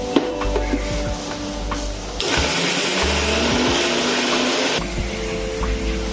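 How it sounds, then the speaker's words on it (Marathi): A mixer grinder whirs loudly as it grinds cooked masala with fresh coriander, starting and stopping in bursts, with a harsher, fuller roar in the middle stretch and rattling between runs. "आता हे यामध्ये कोथिंबीर टाकून आपण हे मिक्सरला बारीक करून घेऊ"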